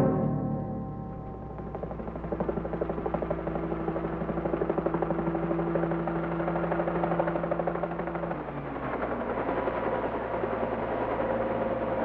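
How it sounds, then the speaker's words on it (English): A helicopter engine drones steadily with low rumbling and whirring, continuous and fairly loud throughout, shifting slightly in pitch near the end. "I'll send the chopper right away."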